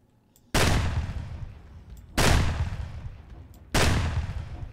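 Three loud gunshots ring out about one and a half seconds apart, each with a booming tail, fired at zombies at an airfield in Project Zomboid.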